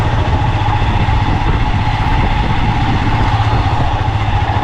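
A motorcycle engine rumbles steadily at low revs while crawling slowly over rocks on a Moroccan trail, close and loud, chugging without a break.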